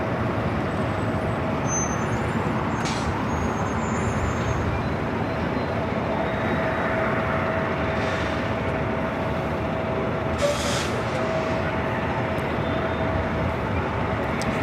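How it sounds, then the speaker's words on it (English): An Air Tahiti Nui Boeing Dreamliner, arriving from Paris, comes in to land on the north side of LAX, its steady broadband jet roar filling the air continuously with a faint tonal whine riding on top. "this Dreamliner coming in from Paris, Air Tahiti Nui"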